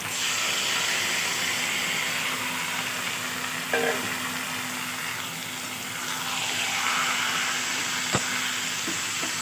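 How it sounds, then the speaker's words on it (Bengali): Marinated young goat meat frying in a kadai gives a constant loud hissing sizzle with occasional spoon knocks, close up and uninterrupted by speech. "এবার ম্যারিনেট করা মাংসগুলো কড়াইতে দিয়ে দেবো দিয়ে ভালোভাবে কষিয়ে নেব"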